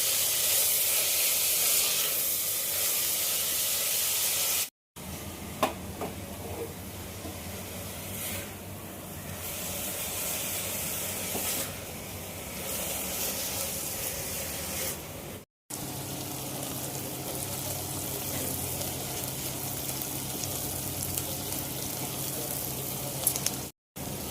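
Onions frying in oil until golden brown for a Konkan-style prawn pulao, a continuous hissing sizzle near the mic, cut by two short silent gaps, with no speech.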